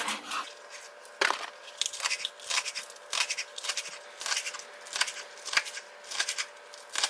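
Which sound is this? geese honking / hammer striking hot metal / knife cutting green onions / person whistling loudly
knife cutting green onions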